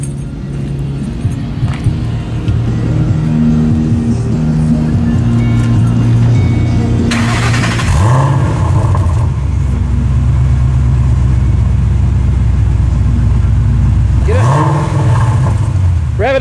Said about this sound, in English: Start up. Let's hear that exhaust.